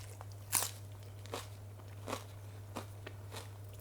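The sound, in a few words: biting into crispy tempeh wrap with crunchy lettuce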